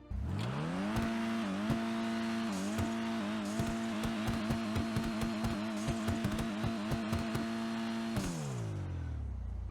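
Dinka Kanjo SJ, a front-wheel-drive car in GTA Online, revs its engine loudly and up close in a long series of sharp blips, holding a steady idle between bursts before the revs drop away near the end.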